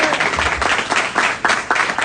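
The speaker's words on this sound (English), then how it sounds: "Please clap that up." Audience at a live talk in Capitol Heights, Maryland clapping in uneven bursts, fairly close and loud, with a short swell near the middle and sharper surges toward the end, no speech over it.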